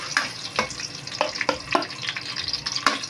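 Onions go into a pan for a balbacua stew and fry with a crackling sizzle, while a few sharp scrapes and taps of stirring sound close by over about three seconds.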